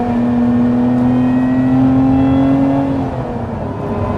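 A Lotus Emira's supercharged engine pulls hard under acceleration, a loud, close, sustained drone that climbs steadily in pitch, then eases slightly near the end, with no talk.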